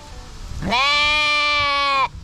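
A sheep being fed hay lets out a single loud, drawn-out bleat lasting over a second, close by and clear after a brief quiet moment.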